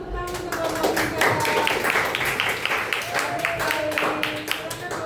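A classroom of students claps for a group that has just presented, a dense round of applause that carries on for several seconds with some voices mixed in.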